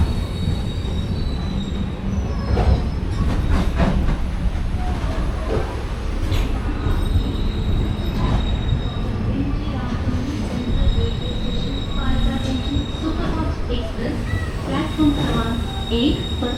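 A train rumbles through a Kerala junction station in the monsoon with squealing wheels and rhythmic rail clatter, loud and continuous, with faint voices and announcements in the background.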